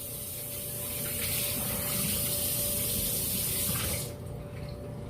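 A kitchen faucet runs steadily into a sink during washing up while cooking, a close continuous rushing spray that cuts off near the end, leaving quieter background noise.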